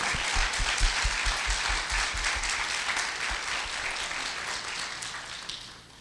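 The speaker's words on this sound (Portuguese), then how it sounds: "eu queria pedir que todos vocês batessem uma salva de palmas para os professores" An audience at a school technology-in-the-classroom event gives a sustained round of applause for the teachers, dense steady clapping that holds for several seconds and tapers off at the end.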